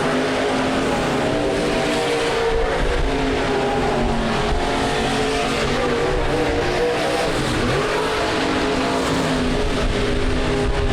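B-Mod race cars roaring around Rapid Speedway during a night heat race, a loud continuous pack of engines droning and revving as cars sweep past, with one car's pitch dropping as it passes close by.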